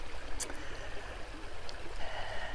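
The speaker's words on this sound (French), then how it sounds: "J'espère que vous entendez le petit clapotis de la rivière à côté, peut-être à travers mon microphone" A small river babbles nearby, a steady soft wash of trickling water with a few brighter splashes, with no voices.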